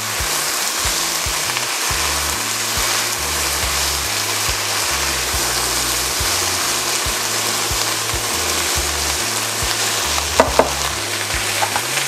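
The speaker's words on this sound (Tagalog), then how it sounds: "ang ating siling pansigang. Haluin lang natin siya." Green chilies for sinigang fry in a pan while being stirred, a loud, continuous sizzle with regular scraping strokes of the utensil close by, and a couple of sharp knocks near the end.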